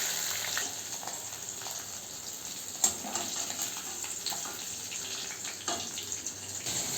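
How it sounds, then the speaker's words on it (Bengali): Pomfret fish sizzle steadily in a hot pan of oil, a close, continuous frying hiss with occasional small pops and crackles. "আমার মাছগুলো ফ্রাই হয়ে গেছে,"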